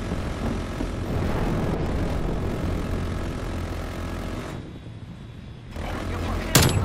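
Propeller engine roar from a VTOL escort aircraft in the shooter game Call of Duty Black Ops Cold War, a loud continuous drone overhead that dips briefly before a sharp burst at the end.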